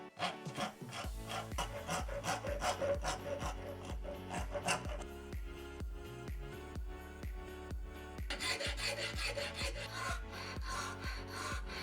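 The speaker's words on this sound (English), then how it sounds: "start rounding over the edges using first the wood rasps and then the metal files" Wood rasps and metal files round over the edges of a curved plywood slingshot, making continuous, closely spaced rhythmic scraping strokes that stay steady and fairly loud throughout.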